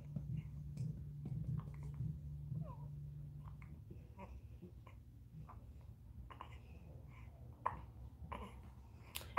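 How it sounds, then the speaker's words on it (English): A baby hiccups repeatedly through gas discomfort, each small hiccup soft and close against a low steady background hum, occurring irregularly across the stretch with faint babbling sounds. "We're just gonna let him work his way through these hiccups."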